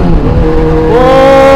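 Car engine from the PS2 racing game Need for Speed Underground, loud and close, climbing in pitch as it revs hard, with a short squeal of tires.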